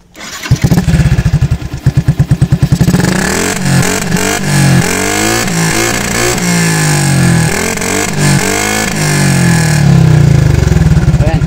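A Yamaha Sniper MX135 motorcycle with an open pipe exhaust starts up and is revved repeatedly, loud and close, with a rattling, tinny metallic edge over the rising and falling engine note.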